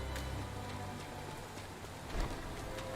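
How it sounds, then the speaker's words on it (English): Steady rain falls in Devil May Cry V, a continuous broadband wash with a brief louder swell near the end, heard alone without any voices. "Raining."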